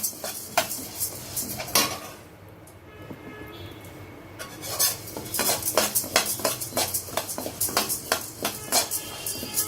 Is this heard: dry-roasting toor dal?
yes